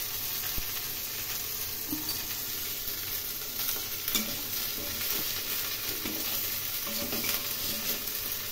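A spiced fish curry base with salt, turmeric and cumin powder sizzles steadily in a pan, with occasional soft stirring scrapes over the constant frying hiss.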